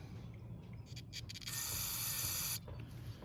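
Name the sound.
spraying cleaner into carburetor main jet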